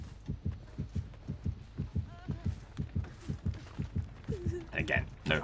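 Survivor heartbeat warning in the Dead by Daylight video game, a steady low thumping pulse repeating about twice per second throughout, with a commentator talking over it.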